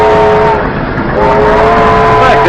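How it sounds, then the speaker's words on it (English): A train rolls in with its horn sounding a sustained multi-tone blast over loud rumbling and clatter, close and dominant, with no talk. "Look, the train came back for us."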